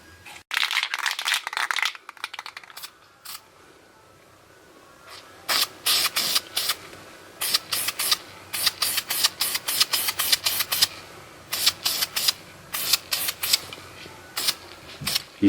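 Short bursts of aerosol spray paint hiss over NES, Xbox and Super Nintendo controller buttons taped to cardboard, coming as a long spray and then many quick, evenly spaced blasts, close and fairly loud with quiet gaps between.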